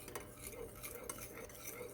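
Salt is stirred into about 150 ml of water heated for corn, a steady close clinking and scraping of a utensil against a container that runs without pause.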